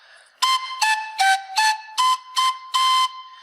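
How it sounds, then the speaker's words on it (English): Seven short breathy pipe notes, each a separate puff with a steady pitch that steps around slightly, played alone at a moderate, even pace. "Listen to these panpipes."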